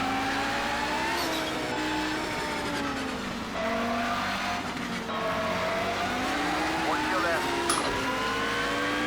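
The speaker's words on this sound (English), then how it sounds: "You can hear the tires start to spin up a little bit there too." An Audi Quattro IMSA GTO race car engine revs through rising gears at the Nordschleife in Project Cars 2 as the tires spin and faintly squeal, with a voice talking over the steady roar.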